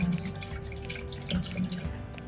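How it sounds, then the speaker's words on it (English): Red wine pours into a pot to make poaching liquid for pears, giving a steady close liquid splashing and gurgling stream with no speech. "The next step is to prepare the poaching liquid. To do this, you add the red wine"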